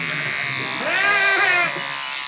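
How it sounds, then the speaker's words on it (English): Electric clippers shearing sheep give a steady, close buzzing drone for about two seconds. "So it was sheep shearing time for Nabal"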